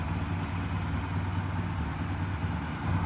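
A custom 125cc motorcycle engine idles quietly, a steady low rumble that holds even throughout with no voices over it.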